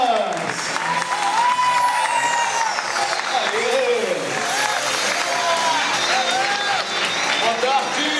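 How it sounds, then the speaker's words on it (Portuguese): Audience applause with cheering welcomes two speakers onto the stage at a lecture, steady broadband clapping filling the whole stretch while voices and a spoken exclamation ride over it. "Uma salva de palmas."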